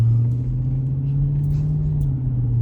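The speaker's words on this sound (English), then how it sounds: "now I'm finna be doing a quick little test drive with the guards on to see how they gonna react to me actually driving" Steady low engine drone from a Chrysler 300C driving on a test drive, a continuous even rumble heard from inside with no voices.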